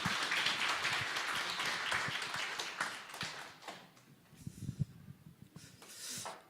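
Applause from an audience at a church evangelism camp forum in Busan, a dense patter of clapping that thins out and fades into scattered claps and quieter room noise.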